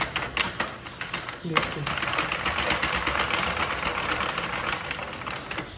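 A Sentro knitting machine is cranked in a steady, rhythmic clatter of needles that goes on without a break, while a person speaks briefly.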